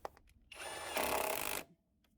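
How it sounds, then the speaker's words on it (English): A power tool runs briefly to tighten the 8mm seat bolts on a Yamaha XT250 motorcycle, a single close whirring burst of about a second that rises to its peak and then stops. "install the two 8mm bolts that hold the seat in"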